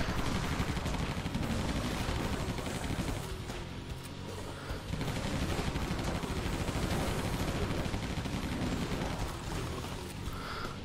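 MAC-10 submachine gun in the shooter game Nation Red, a dense unbroken stream of rapid automatic fire with explosive chatter, loud and continuous throughout.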